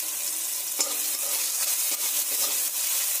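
Chopped tomato frying in hot oil with black cumin, a steady close sizzle with occasional soft stirring scrapes.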